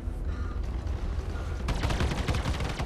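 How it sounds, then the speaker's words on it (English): Repeater guns on a spaceship in the video game Star Citizen fire in a rapid, sustained stream of crackling shots that grows denser and louder partway through, over ambient engine hum. "the sheer volume of fire that you get out of the repeaters is one of the things that I like"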